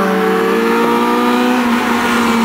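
A Renault Clio RS race car at the Durtol hill climb roars loudly and steadily as its engine holds high revs, a continuous close-range drone with no voices.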